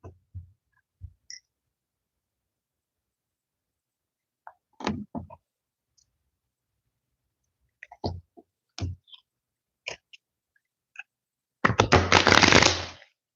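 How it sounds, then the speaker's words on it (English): Tarot cards shuffled by hand, a few soft sparse riffles and taps early on, then a dense, loud burst of flapping card shuffle near the end, with no talking. "Shuffling the deck"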